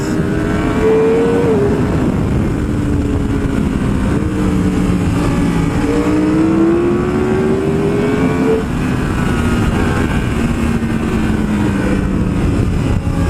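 A Yamaha R1M motorcycle engine lugs along in second gear, a steady loud low drone with slowly rising and falling pitch over continuous wind rush, heard from the rider's position.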